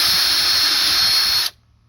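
A power drill boring holes through the plastic base of a pond filter skimmer, a steady loud whine for about a second and a half that cuts off abruptly into near silence.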